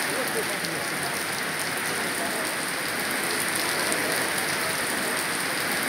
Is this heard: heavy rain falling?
yes